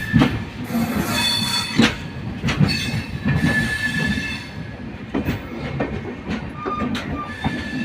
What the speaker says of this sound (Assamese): ইয়াতে ট্ৰেইনবিলাক মেৰামতি কৰে